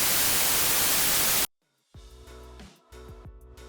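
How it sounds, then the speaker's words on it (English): Loud, steady hiss of white noise for about a second and a half, then it cuts out abruptly and is followed by crunchy distorted tones. "you can just take some white noise"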